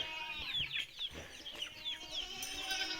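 Chicks cluck and chirp softly in quick, scattered calls, fairly faint, with light background noise of a farmyard.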